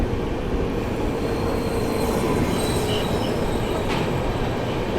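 A passing MGR Chennai Central–Gaya Weekly Superfast Express train, heard as a steady, loud rush of wheels on rail with a faint squeal near the end, continuous and close throughout.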